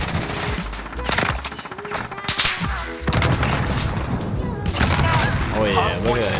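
Call of Duty Modern Warfare firefight with a thrown grenade detonating in a heavy boom amid bursts of automatic fire and scattered shots, with a player talking over the action.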